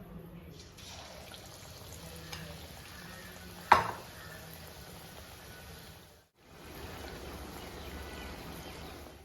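Kerala-style egg bajji deep frying in hot oil, a steady sizzle running throughout with a sharp clatter near the middle and a brief drop to quiet before the bubbling resumes.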